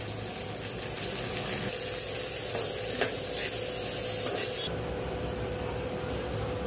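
Bay leaf, chopped onion, green chilli and turmeric sizzle steadily in hot oil, a dense close frying hiss that runs throughout with a few soft stirring knocks, then drops slightly in brightness toward the end.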